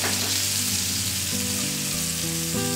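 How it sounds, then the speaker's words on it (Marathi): Bangda mackerel and pomfret frying in oil at a Konkan village farmstay, a loud, continuous sizzle that holds steady from start to finish, heard alone without voices. "बांगडे आणि पापलेट आता फ्राय करतात"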